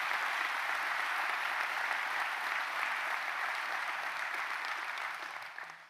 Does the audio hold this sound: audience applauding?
yes